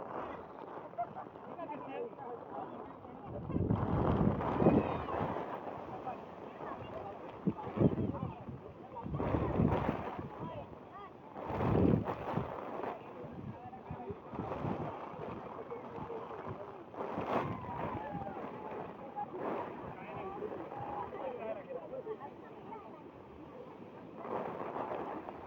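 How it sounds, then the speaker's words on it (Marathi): Strong wind buffets the area on a rainy hilltop with steady rain hiss, gusting in loud surges throughout, while a person speaks intermittently nearby. "वारा पाऊस खूप आहे, जोरात आहे"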